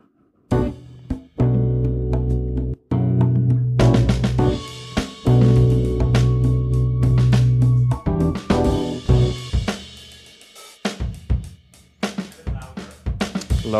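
Sampled drum kit beat played through DrumGizmo software: a dense, loud, continuous groove of hits, with sustained tones underneath during the first half, and no talking.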